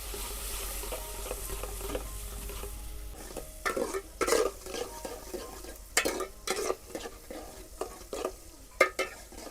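A spoon stirs curry leaves, green chilies, onion and tomato in a pan of hot oil, with gentle sizzling underneath and a series of sharp scraping clacks against the metal, close and irregular.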